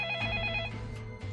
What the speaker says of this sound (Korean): 그런데 바로 그날 밤 소련의 외무장관 몰로토프에게 전화가 걸려왔습니다